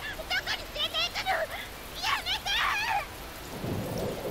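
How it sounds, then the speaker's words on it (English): Black rain pattering with a rolling thunder roar in a visual novel game, steady hiss of rainfall under bird-like chirps and a low rumble building near the end, no talk. "Rising above the pattering of the black rain, a baleful roar filled the air, crawling up from the depths of the earth"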